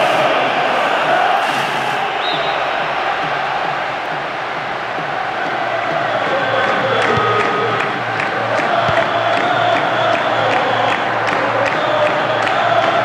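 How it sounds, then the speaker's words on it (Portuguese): A virtual stadium crowd in a PS2 football match sings and cheers continuously, a loud dense roar with chanting swells and whistles throughout, with no break. "E a torcida canta e vibra."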